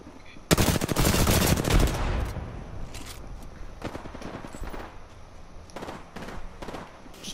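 Video game gunfire: a rapid loud burst of automatic shots up front, followed by scattered shorter volleys and single cracks at a lower level.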